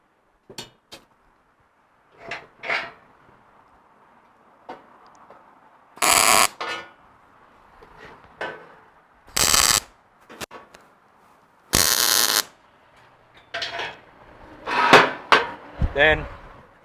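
Tack welds on a Ford Ranger DIY front bumper kit come as several short, harsh buzzing bursts a few seconds apart. Someone talks quietly in the gaps between welds.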